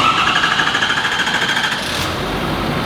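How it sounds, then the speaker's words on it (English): Ford Super Duty diesel engine fitted with a DCR fuel pump, starting up: a loud, fast, rattling mechanical clatter that smooths and fades into a steadier hum near the end. "Watch how fast this DCR builds fuel rail pressure and starts the engine."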